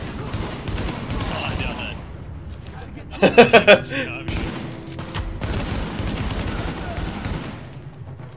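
A short burst of rapid enemy gunfire in the Tom Clancy's The Division video game, a quick rattle of four or five shots over background game noise, with someone talking before and after.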